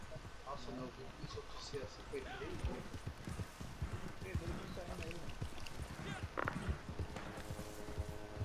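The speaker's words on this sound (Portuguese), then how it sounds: "Meu cavalo não para de rodar, mano." Horse hooves clip-clop in Red Dead Redemption 2 Online at a desert fort, a continuous trotting patter heard under game sounds and background noise, with a brief whinny-like sound near the end.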